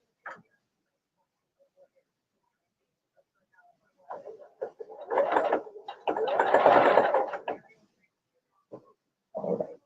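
Sewing machine stitching a child's clear vinyl tote bag, short bursts of close, buzzing stitching separated by quiet pauses, with a few brief clicks at the start and a final short burst.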